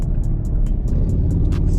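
A Chevrolet Camaro SS 1LE with a manual gearbox rumbles steadily and loudly up close, its deep engine drone holding an even pitch while a rapid, regular light ticking runs over the top.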